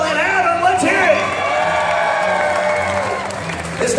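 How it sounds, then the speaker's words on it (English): Live studio audience at a Fear Factor-style stunt show cheering and whooping for the blue team, a loud, sustained roar of mixed voices with claps throughout. "I want you to cheer for the blue team of Noelle and Adam"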